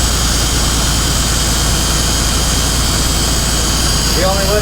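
A school bus engine in a wrecking yard runs steadily at close range, a constant heavy drone filling the whole stretch with no break, and a brief whine rises near the end.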